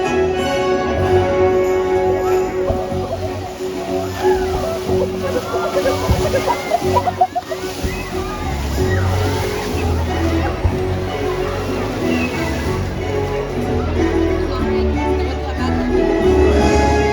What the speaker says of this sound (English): Fluke slaps are another form of communication that killer whales can use in the wild.